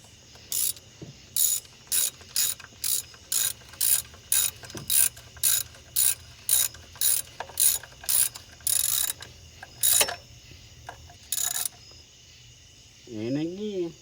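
A 3/8 ratchet wrench clicks in quick, regular bursts up close while tightening bolts on carburetor valve covers. Rapid strokes repeat steadily, then slow down, and a brief whirring sound follows at the end.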